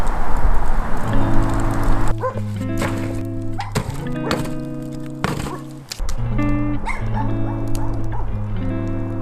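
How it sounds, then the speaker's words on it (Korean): Dogs bark repeatedly behind a winter campsite, several loud barks and yips cutting through steady background sound and a sustained tonal hum, with a brief lull partway through. "뒤에 개들이 계속 짖어요."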